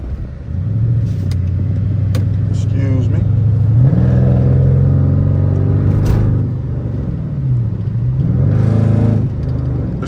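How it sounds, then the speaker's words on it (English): A modified 2014 Dodge Charger R/T's V8 rumbles loudly as heard from the cabin, revving up in a few bursts over a steady deep idle, with someone talking over the engine at times. "this car is loud as hell"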